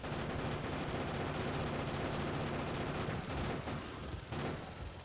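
Rapid continuous gunfire from ammunition in the video game Factorio, a dense sustained rattle of shots with no talk.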